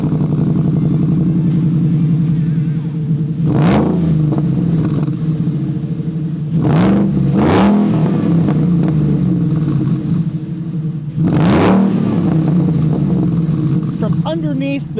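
A 1964 Ford F-100 with a Coyote V8 and custom 2.5-inch side-exit exhaust with Borla mufflers rumbles at a steady idle, then rises in three sharp throttle blips, loud and close under ongoing talk.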